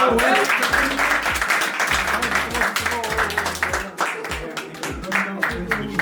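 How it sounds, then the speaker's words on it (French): Audience applause mixes with loud, overlapping voices and laughter close by, the clapping thin and partly buried beneath the chatter. "Applaudissez pour vous."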